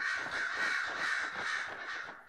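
Crows caw in a dense, overlapping chorus in the Dragon Age: Inquisition game world, loud and close, with harsh repeated calls filling the whole stretch.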